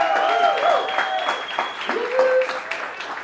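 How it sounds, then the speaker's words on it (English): A small group claps at a casual meetup, with scattered hand claps running the full length under faint tonal sounds and a brief voice or whistle-like tone, moderately close and fairly light. "Round of applause for that"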